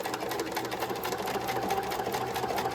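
A Kenmore sewing machine runs steadily while stitching, including back stitches, giving an even, continuous mechanical whir with a rapid needle rhythm throughout, close and alone.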